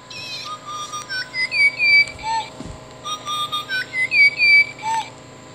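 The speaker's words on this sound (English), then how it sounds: "Pied butcherbird." Pied butcherbird call played by a Wild Republic Audubon plush toy: a run of clear, fluting whistled notes in phrases that rise and fall, sounded twice, close and fairly loud.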